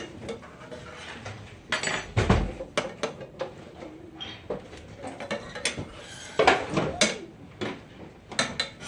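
Spoon stirring Madagascar vanilla bean paste into homemade cranberry relish in a bowl, giving quiet, irregular clinks and scrapes that come in bursts, with no talking.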